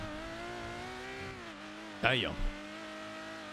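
A supercar engine in GTA V roleplay hums with a steady, close tonal drone that eases slightly midway, while a voice briefly exclaims over it near the end.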